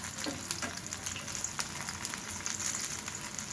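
Vegetable pakoras of potato and pointed gourd sizzle steadily in hot oil, a dense crackling fry with a few brief stirring clicks, close and fairly loud, no voices.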